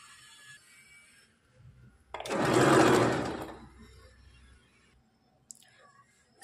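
A sewing machine runs in one steady burst of about two seconds while a neckband is attached to a princess-cut blouse, with quiet clicks before and after.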